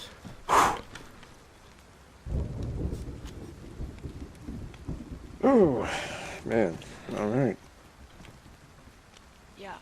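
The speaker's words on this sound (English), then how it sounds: "thunder and lightning started up" Thunder and rain in the video game DayZ on the Livonia map: a low rumbling roll of thunder under a steady hiss of rainfall, with someone talking over it.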